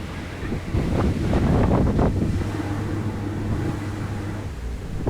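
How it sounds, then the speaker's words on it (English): Strong wind gusts buffet the microphone beside a narrowboat on a canal, a loud steady roar with a low engine hum running underneath. "being a windy day, it didn't make it easy to make the turn either."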